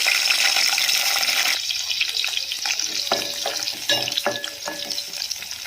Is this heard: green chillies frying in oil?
yes